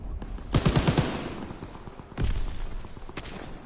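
Gunfire in the World War II shooter Call of Duty WWII: a rapid machine-gun burst followed by scattered single shots and another heavy blast, loud and close, with no talk.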